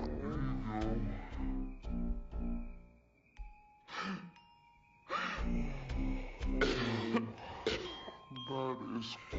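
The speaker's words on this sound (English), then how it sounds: "That is quite a cough for you." A child gives several short, raspy coughs mixed with sighs and gasping breaths, close by, with a few quiet pauses in between.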